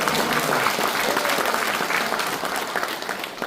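Audience applause at a Korean award ceremony and seminar, a sustained wash of many hands clapping loudly, easing slightly toward the end.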